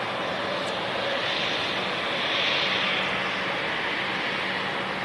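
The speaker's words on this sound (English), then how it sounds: "Next departure, BA." A British Airways airliner departs London City Airport, its engines a steady, fairly loud broadband roar that swells slightly midway and holds without a break.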